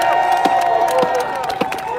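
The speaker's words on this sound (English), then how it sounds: "Let's give a round of applause to our bicyclists, our medics" A street protest crowd in Providence, Rhode Island claps and cheers, with scattered sharp claps and shouts over a sustained, hazy tonal background, and some voices mixed in nearby.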